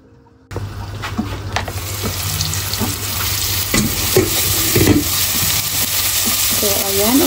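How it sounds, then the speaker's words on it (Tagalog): Onion and tomato sautéing in a pan for pork sinigang, a steady close sizzle with occasional stirring scrapes and clinks, no talking. "okay na tong ginisa kong sibuyas at saka kamatis"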